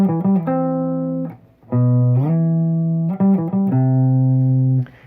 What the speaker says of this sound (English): what makes it sound cool is the bass line that's going along with that, which is pretty iconic